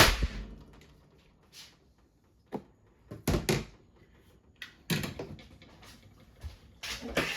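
A custom AEA Zeus 30-inch .357 air rifle fires at steel trays outdoors, a sharp loud crack followed by several short knocking impacts and clanks spread over a few seconds, with quiet gaps between.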